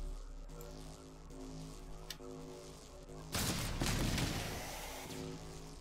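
Missiles fire in TerraTech: a low tonal hum carries on quietly until a sudden loud rushing burst breaks in partway through, then fades slowly.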